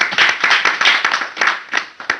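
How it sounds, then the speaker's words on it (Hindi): An audience claps through a Hindi love-songs stage programme, with dense, rapid hand claps that stay loud and fairly even throughout and carry no voices over them. "वाह वाह वाह, तालियां।"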